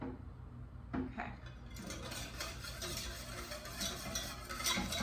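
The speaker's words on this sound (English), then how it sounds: "I am continuously whisking" Lemon soufflé mixture whisked continuously in a saucepan over gentle heat, a steady close scraping and stirring with light metallic clinks, no talk.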